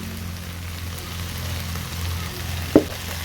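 Water spinach curry frying with cumin and coriander powder gives a low, even sizzle throughout, with a single brief clink near the end and no voices.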